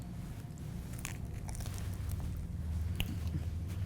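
Someone bites into crunchy oven-baked pizza bagel bites, giving a few close, crisp crunches over a steady background hum.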